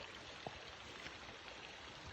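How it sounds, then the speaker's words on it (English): Champion Creek running along a forest hiking trail, a soft, steady rushing wash of flowing water heard faintly from nearby, unbroken and without voices. "So I presume this is Champion Creek."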